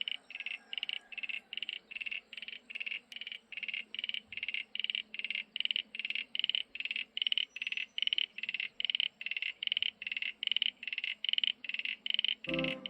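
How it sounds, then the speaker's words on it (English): Native Tasmanian frogs call from a garden wetland, a fast, regular train of clicking pulses repeating steadily for many seconds, close and clear over a quiet background. "Just listen to those beautiful frogs."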